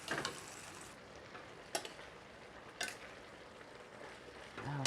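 Ziti pasta simmers and sizzles in tomato sauce in a pan, a soft, continuous crackle with occasional sharp clinks of a utensil against the pan, faint and close.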